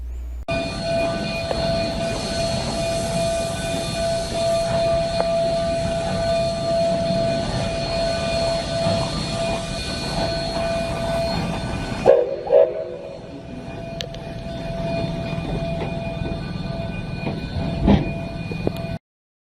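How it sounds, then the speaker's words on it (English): Coal-burning Baldwin K36 steam locomotive pulling a train on a scenic railroad, heard from aboard: a steady loud rumble of rolling cars with tonal hum for about twelve seconds, then a sudden quieter stretch with a few clanks and knocks. "we are riding behind a coal-burning steam engine, a Baldwin steam engine, a K36"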